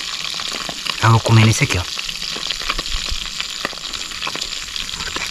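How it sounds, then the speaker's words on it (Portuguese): Piau fish frying hot on the riverside, a continuous crackling sizzle close by, with someone speaking briefly over it. "Enquanto o outro acaba de fritar ali"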